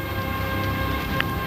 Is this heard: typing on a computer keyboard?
no